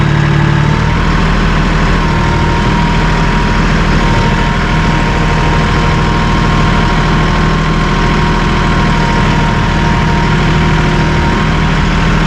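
The Iseki premium power engine of a Massey Ferguson 1840M compact tractor runs steadily and loudly, a constant low hum with no change in speed and no talk over it.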